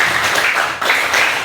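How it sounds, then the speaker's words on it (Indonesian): A school classroom of students claps together in unison, producing short, loud bursts of group handclaps in a quick rhythmic pattern with a brief gap in the middle. "Satu kali tepuk"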